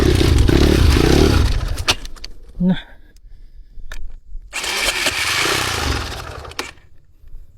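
A motorcycle engine cranks and catches with a loud close roar, drops to clicks and rattles, then revs up again before cutting off.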